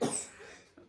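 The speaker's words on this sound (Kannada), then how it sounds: "3 ಒರಿಜಿನಲ್ ಕೆಮ್ಮು" A single sharp cough, close and fairly loud, fading out quickly with a faint breathy tail.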